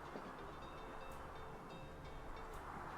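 A train in the Sweet Transit video game rumbles along on rails with a continuous mid-level rolling noise and a couple of faint clicks, steady and unbroken.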